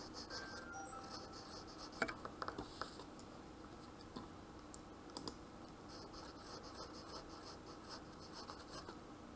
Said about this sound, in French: Donc, je vais aller écrire